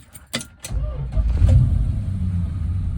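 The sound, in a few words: 1965 Chrysler 300L engine starting and running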